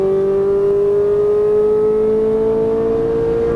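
A Ferrari 458 Italia accelerating hard around a racetrack, its engine note a loud, steady, rising high-pitched wail held close for several seconds without a break or any speech.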